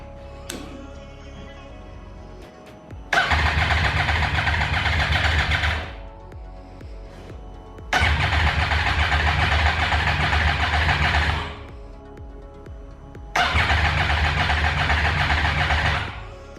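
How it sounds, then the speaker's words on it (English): A crashed 2014 Yamaha R1 motorcycle engine cranks over in three long bursts of about three seconds each. Each burst is loud, close and steady, with quiet pauses between, and the engine never catches. "So it seems like the bike doesn't want to start"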